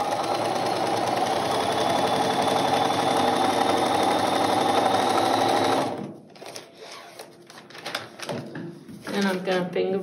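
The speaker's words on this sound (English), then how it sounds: "So we're gonna quickly sew that one." A sewing machine stitching a quilt border piece, a fast continuous mechanical whir for about six seconds that then stops abruptly, followed by soft handling noises and a voice talking.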